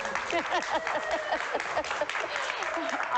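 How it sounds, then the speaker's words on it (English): A studio audience at a live morning talk show claps for a women-only episode, moderate and fairly steady, with talking and voices running over the clapping throughout. "You can clap for that, actually."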